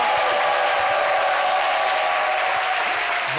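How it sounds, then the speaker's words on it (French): A studio audience on a midday television talk show applauding loudly, a thick, steady roar of clapping filling the room without a break. "C'est le doyen Bienvenue Débat que je demande d'applaudir bien fort"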